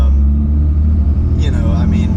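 A 2007 Cummins 5.9 diesel with an S&B cold-air intake and turbo rumbles steadily at close range, with a faint rising turbo whistle appearing near the end.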